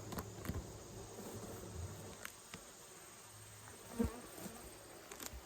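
Honey bees hum faintly and steadily during honey harvesting from a hive, with a few soft taps and knocks scattered through the low buzzing.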